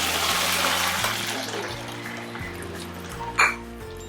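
Liquid poured into a hot pan while making ven pongal, a steady rushing pour that fades over a few seconds, ending with a short bright splash, close and alone without talk.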